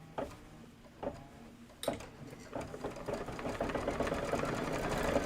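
An embroidery sewing machine quilting a table topper: a few separate mechanical clunks at first, then a rapid, steady stitching chatter that builds and runs continuously up close.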